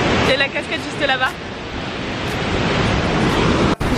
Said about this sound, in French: Et la cascade juste là-bas.